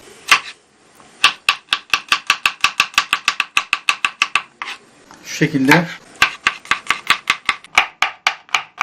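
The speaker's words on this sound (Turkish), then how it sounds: "sarımsaklarımızı da ince ince doğrayalım" A knife taps rapidly and rhythmically on a cutting board, finely chopping garlic in quick bursts, pausing briefly while a voice speaks a few words.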